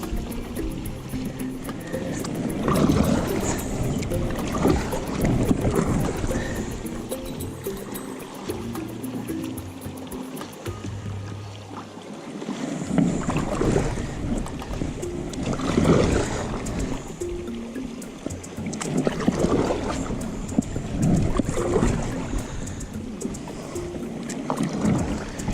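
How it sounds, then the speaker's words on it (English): A paddle dips rhythmically into the Dumbea River, each stroke sloshing and dripping close by as the boat moves along, over steady flowing water with occasional wind buffets and no talking. "It's a pretty easy paddle, this one"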